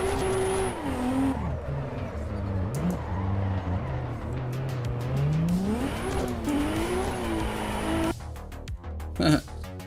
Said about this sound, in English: Second gear drift.